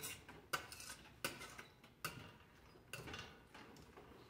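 A utensil stirs jerk chicken in coconut milk in a pan, giving about five distinct scraping clinks against the metal at an uneven pace, faint and close with no talking.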